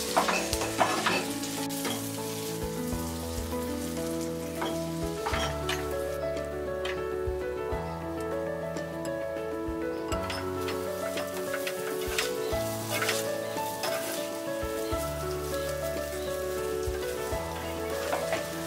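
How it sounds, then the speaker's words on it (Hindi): Cooked leftover rice is tossed and stirred in a hot tempered pan for phodnicha bhaat, a continuous crackling sizzle with frequent spoon scrapes, heard over a steady tonal background that sounds like music. "हम राइस थोड़ा थोड़ा डाल के मिक्स करते रहेंगे"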